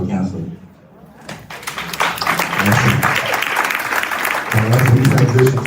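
Audience applause at a town hall meet-and-greet, starting after a brief quiet gap and building into sustained, dense clapping that fills the room, with a voice speaking over it.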